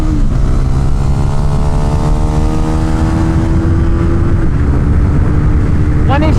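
A small motorcycle is ridden at speed, its engine droning steadily with revs climbing through a gear and then dropping as it shifts, close and loud under heavy wind noise.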